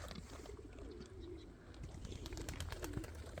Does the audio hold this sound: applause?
no